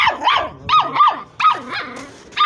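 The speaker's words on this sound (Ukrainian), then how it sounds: "Перестань гавкати." A dog barks loudly and close in a rapid series of about six sharp yelping barks, with short gaps between them.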